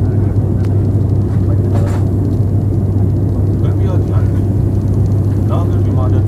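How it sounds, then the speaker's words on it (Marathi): Inside the cabin of an ATR72 turboprop airliner descending toward Sindhudurg airport, a steady loud low engine drone and rumble fills the whole stretch, with faint intermittent chatter. "आता ऑलमोस्ट आपण पोहोचलोय आणि डिसेंड करायला सुरुवात केली आपल्या विमानाने"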